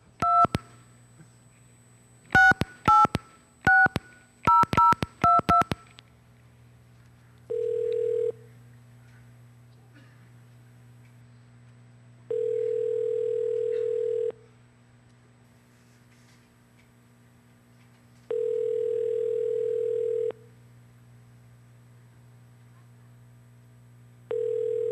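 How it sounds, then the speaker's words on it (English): A landline phone dials a video store, with a quick burst of touch-tone keypad beeps followed by a steady hum and four long, evenly spaced ringback tones separated by silence. "I'm going to make a phone call to a video store."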